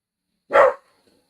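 A dog barks once, a single sharp loud bark standing alone and close, heard outdoors during a live baseball play-by-play.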